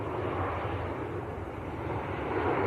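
A Ryanair airliner from Berlin arrives at Manchester Airport with a continuous, broad jet rumble at moderate volume, fairly even throughout and with no voices.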